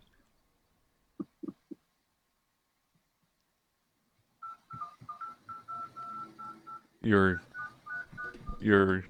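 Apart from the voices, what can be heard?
telephone being dialed, DTMF tones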